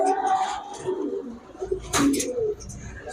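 Giribaz pigeons at a nesting loft give a few low, throaty coos close by, broken by a brief flutter or rustle midway.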